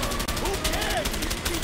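Repeated bursts of gunfire from A Way Out pulse in a steady rhythm during a chase shootout, fairly loud, with voices talking over the shots.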